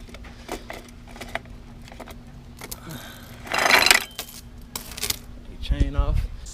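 Metallic clinks and rattles as the chain is worked off a 2007 Suzuki RM125 dirt bike, light scattered taps with a louder jangling clatter midway and a few more clanks at the end.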